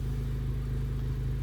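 A Honda Civic Type R with a Greddy DDR non-resonated exhaust runs steadily at a low, droning engine note with no clear rev rise, loud and continuous throughout.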